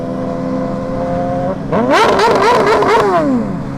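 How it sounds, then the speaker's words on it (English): A KTM Super Duke motorcycle pulls hard under full acceleration, its engine note climbing rapidly through the gears with sharp upward sweeps, loud and close, after a steadier cruising drone. "I have to do another pull with the Super Duke though."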